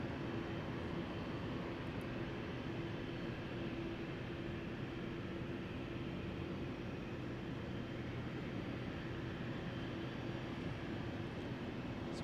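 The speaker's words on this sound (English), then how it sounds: "Taxiing for departure right in front of us. British Airways City Flyer 4450." A British Airways CityFlyer airliner taxiing for departure at London City Airport gives a steady, continuous jet engine rumble and whine at moderate distance, unchanging throughout with no voices.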